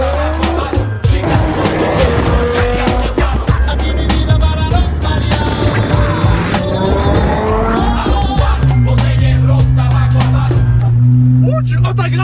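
Z sports car driven hard on a road, engine revving loudly up and down through gears with tire squeal and skidding, close and dominant throughout, the engine settling to a lower drone near the end.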